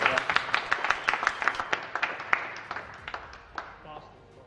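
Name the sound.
audience applauding the top three racers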